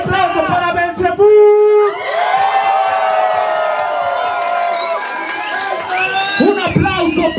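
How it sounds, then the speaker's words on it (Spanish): An audience at a freestyle rap battle roars approval for one contestant, loud sustained cheering, whooping and shouting from a close crowd throughout, with some vocal yells standing out. "A ver, un aplauso para Belcebú."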